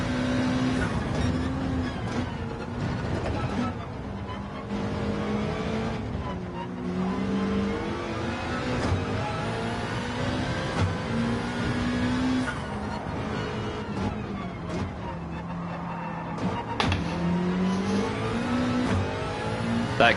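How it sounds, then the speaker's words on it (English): A Corvette Gr3 race car in Gran Turismo 7 at Bathurst, its engine droning and revving steadily through gear changes for the whole stretch, with someone talking over it now and then. "That Corvette is powerful"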